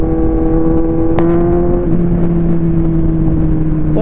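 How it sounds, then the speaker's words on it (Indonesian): An 800cc four-cylinder motorcycle engine revs loud and close, holding a steady, smooth drone with a brief rise in pitch partway through. "Powernya juga lumayan, 800cc, 4 silinder, suaranya juga enak guys"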